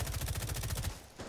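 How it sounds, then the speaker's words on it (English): Rapid burst of gunfire in Rainbow Six Siege on the Chalet map, a fast regular train of loud shots lasting about a second before a brief pause and a quieter tail. "I'm gonna shoot it."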